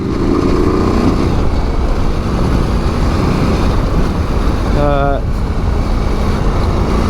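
Husqvarna Norden 901 adventure motorcycle riding an open forestry road in Australia, its engine a steady loud drone with wind rush throughout and a brief rising tonal note near the end.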